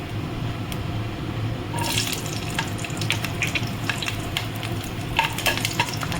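Six or seven green chilies dropped into hot oil tempered with radhuni and black cumin, a quiet base that bursts into loud crackling sizzle and spattering, continuing steadily up close.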